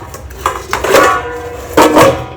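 Metal basins from a household store of worship utensils being handled, giving two bursts of clanking and scraping a second apart, close and fairly loud with brief pauses between.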